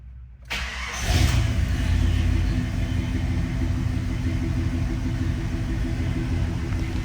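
A 1989 Jeep Grand Wagoneer fires up from cold after a brief crank, its engine catching within a second and settling into a loud, steady, rumbling idle close by.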